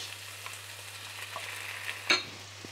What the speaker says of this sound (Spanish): cuando esté caliente añadimos la cebolla y el ajo picados